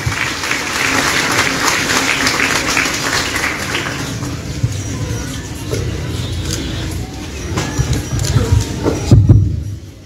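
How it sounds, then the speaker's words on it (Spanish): A crowd gathered in San Juan La Laguna, Guatemala, applauds Don Ricardo Uspan Ovalle with dense, sustained clapping that fades gradually into quieter ambient noise. "Aplausos, Che don Ricardo Uspan Ovalle, por favor."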